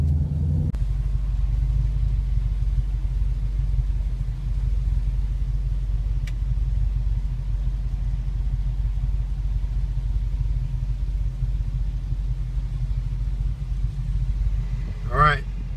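A 1973 Ford Mustang Mach 1 driving slowly over speed bumps gives a steady, deep low engine rumble throughout, with a brief higher squeak or tone near the end.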